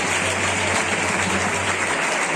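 Sustained applause from an audience at a school's annual sports closing ceremony, a dense, steady clapping wash that fills the whole stretch at a loud, even level with no talk over it.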